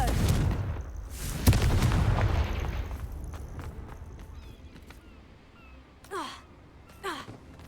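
A Confringo blasting spell explodes in the video game Hogwarts Legacy with a deep booming burst and crackling debris that fades into quieter ambience, and a few brief vocal gasps come near the end.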